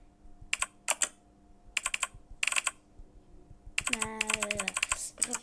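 Keys clatter in quick bursts of typing during a satisfying web game, with short clusters of clicks separated by pauses, then a busier run joined by a falling electronic tone near the end; no one speaks.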